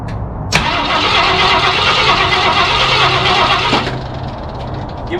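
A 1968 Ford F100 junkyard truck engine cranks briefly, then catches and runs loud and rough for about three seconds before dropping back, with a low idle rumble remaining.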